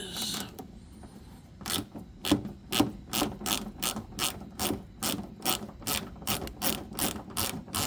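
A 1/4-inch drive ratchet turns a 7mm deep 6-point socket on a 2014 Camaro, producing a steady series of about a dozen crisp, close clicking bursts at an even rhythm with no talking.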